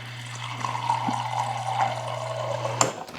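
Water pours steadily into a container in a kitchen, a continuous bubbling stream under a low steady hum, ending with a brief clunk.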